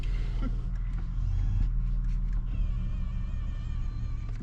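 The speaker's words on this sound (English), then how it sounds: "the seat adjustment motors make some weird sounds" Power seat adjustment motors in a 2022 Acura MDX whir steadily inside the cabin, a close, continuous low hum with a thin mechanical whine running through it.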